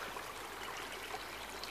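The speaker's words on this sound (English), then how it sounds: "There's a little bubbling brook" A small bubbling brook on a countryside walk near Crooks Peak, Winscombe, giving a faint, continuous trickle and babble of running water, steady and unbroken, with no voices.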